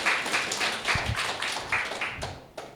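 Audience applause at a business seminar, moderate clapping from a modest crowd with scattered sharp claps, fairly steady and slightly distant.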